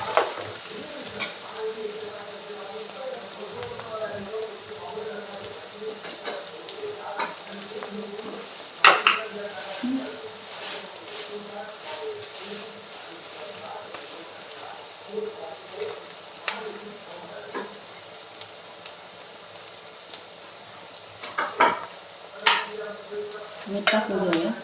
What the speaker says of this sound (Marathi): कांदा लाल होऊन द्यायचा चांगला।